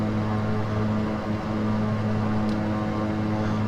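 Turboprop engines of a plane in the FSX flight simulator hold a loud, steady propeller drone with a constant tonal hum, rising slightly as throttle comes up, with no talking over it.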